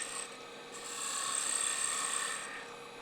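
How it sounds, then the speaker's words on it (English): A detail gouge cuts into a finial spinning on a wood lathe, giving a soft, steady scraping rasp that swells slightly in the middle of the brief pass. "So I'm going to use my detail gouge."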